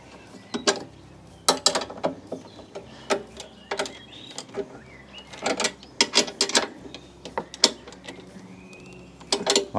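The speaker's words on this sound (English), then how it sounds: "use our 13 mil spanner to get these locked off and tightened up" A 13 mm spanner tightening nuts and bolts while assembling the Cobra RM43SP80V: irregular metallic clicks and ratcheting taps in short clusters, close and fairly crisp, with no talking.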